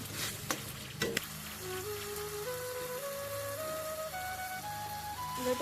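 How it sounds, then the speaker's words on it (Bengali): Fried eggs and potatoes are sautéed in a pan for a Bengali egg-potato curry, with a few clattering stirs at first and then a quiet, steady sizzle. "এবার ভেজে রাখা ডিম আর আলুগুলো এর মধ্যে দিয়ে এবার কষিয়ে নেব"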